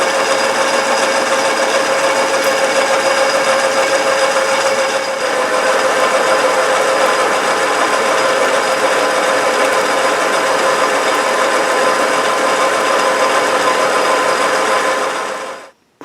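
A metal lathe turns in back gear as it cuts a collet chuck backing plate, giving a steady, loud mechanical whine with a constant tone. The chips break as it cuts, and the sound runs unbroken for about fifteen seconds before it stops.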